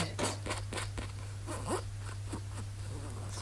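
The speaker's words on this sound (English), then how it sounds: "It's got a little white zipper." A small white zipper on a fabric jewellery bag, pulled in several short, quick rasping strokes close up in a quiet room, with a faint steady hum underneath.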